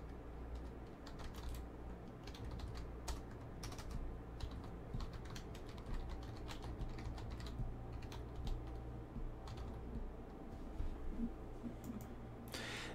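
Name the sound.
typing on a computer keyboard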